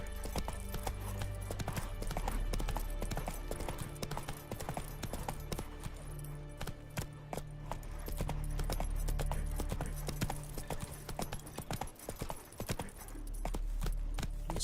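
Horse hooves clip-clop through a town in the video game The Witcher 3, a steady trotting rhythm over a dense game soundscape of music and ambience.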